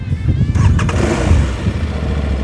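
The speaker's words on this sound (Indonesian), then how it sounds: "Sekarang kita akan langsung dengerin suara mesin 2 silinder 659 cc dari Touareg 660." A 659 cc two-cylinder Aprilia Tuareg 660 motorcycle engine starts up and settles into a loud, rough, rumbling idle right next to the listener.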